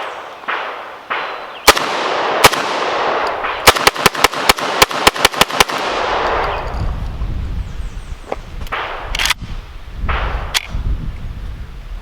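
An SGM Tactical shotgun with an M-LOK grip and a factory muzzle brake fires a full magazine at an outdoor range: a few spaced blasts, then a rapid string of about ten loud, sharp shots with reverberation, and a couple of later cracks.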